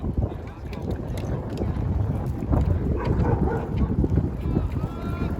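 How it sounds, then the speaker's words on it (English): Steady wind buffeting the microphone at a baseball game, a continuous low rumble with gusts swelling and easing throughout, while faint voices murmur underneath. "Starting to get windy, starting to get a little chilly."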